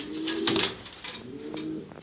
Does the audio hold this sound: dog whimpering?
no